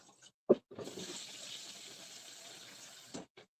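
Rice is rinsed under running water in a kitchen, a soft steady gush lasting a few seconds and framed by brief clinks and taps, quiet and close.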